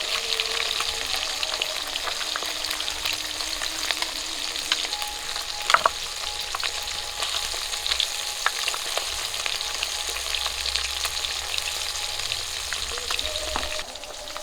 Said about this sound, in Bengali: বাদ বাকি মাছগুলো আমি একই রকম করে ভেজে নেব।